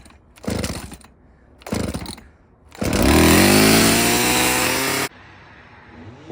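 A firewood chainsaw gets two short pull-start attempts, catches on the third and runs loud and close for about two seconds with a rising whine, then cuts off abruptly into quiet morning air.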